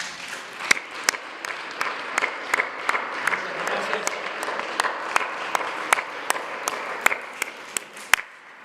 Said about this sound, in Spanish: Les damos un aplauso a nuestros invitados.